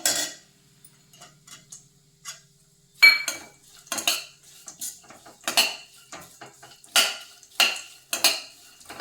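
A spoon clinks and scrapes against a pan as raisins and pistachios fry with dry fruits, in irregular bursts of clatter that grow busier and louder after a quiet start, with no voices.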